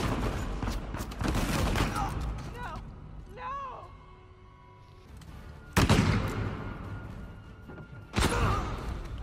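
Gunfire in the video game Uncharted 4: A Thief's End comes in loud bursts at the start and again in two sharp blasts later, with a voice and quieter moments between.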